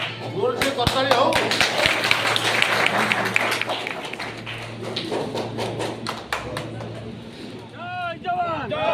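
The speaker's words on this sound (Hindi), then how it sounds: "जोर से करताली हो।" An audience at a BJP Kargil Vijay Diwas gathering at the district office in Banki, Cuttack, claps in bursts of sharp, uneven hand claps while a loud amplified voice talks over the crowd.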